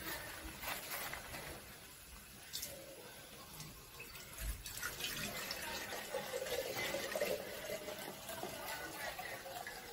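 Neem leaf extract, ground leaves mixed into a litre of water, is poured and strained into a container, giving a continuous close trickle and splash of liquid with light handling noises and a little speech.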